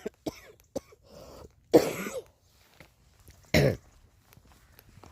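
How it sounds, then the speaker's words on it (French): A woman with a cold coughs several times: a few short throat sounds early on, then two loud, harsh coughs around the two-second mark and again near four seconds, close up, with quiet pauses in between. "Je suis désolée de tousser,"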